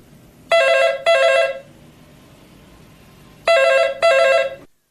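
A telephone rings loud and close in two pairs of double rings separated by a pause, with no talking, at the start of a recorded listening-test conversation.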